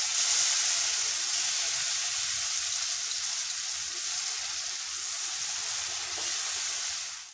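Doi katla gravy, a yogurt-based catla fish curry, boils and sizzles in the pan with a loud, steady, bubbling hiss that continues throughout with no talking.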